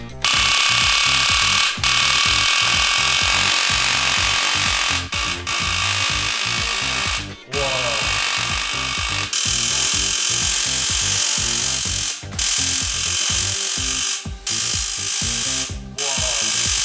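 A homemade 500,000-volt high-voltage device discharges in a loud, continuous harsh buzzing crackle, sustained throughout with a few brief dropouts and pitch shifts, close and without speech.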